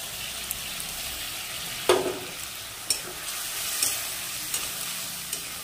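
Spice paste sautéed in a pan for a jackfruit dish, a steady low sizzle broken by intermittent scraping knocks of a spatula stirring, close and moderately quiet, with no voices.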